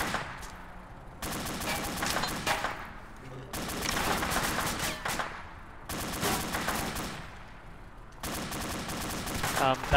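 Sustained automatic gunfire in Arma 2, four long loud bursts separated by short pauses, rattling close by.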